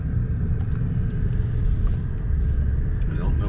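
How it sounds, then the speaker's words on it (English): A car is driven along rural back roads in Georgia, with a steady, loud low engine rumble and road noise throughout and no clear changes in pace. "we're gonna just drive around right now and just kind of explore"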